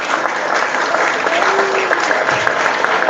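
Dense, continuous applause fills the room as an audience at an Islamic religious lecture in a pesantren claps together, with a faint voice beneath the clapping.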